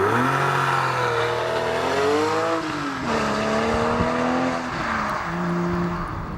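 Engine of a 2013 Porsche 911 Carrera 4S with a 7-speed manual, revving up through a gear with rising pitch, then a shift and a fresh climb, loud and close with no talking.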